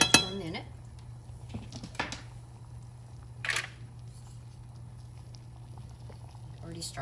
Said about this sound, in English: And I will just stir it for a minute.